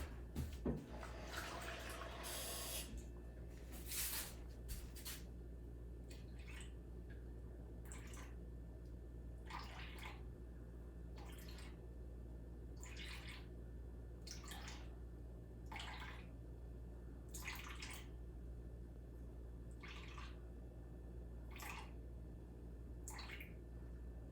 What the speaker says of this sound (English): I need to add a little bit more water